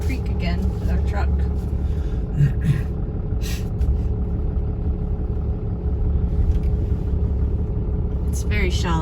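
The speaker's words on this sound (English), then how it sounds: "we get to go across that little creek again with our truck" A truck with a camper rolls through a shallow creek, a heavy engine rumble up close with bursts of splashing and hissing water; people talk over it.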